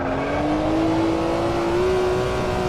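A BMW M1 Procar in the racing game AMS2 at Jerez 88 holds a loud, steady engine drone whose pitch rises gradually, sustained throughout without pauses or voices.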